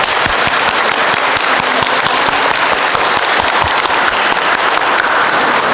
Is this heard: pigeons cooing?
no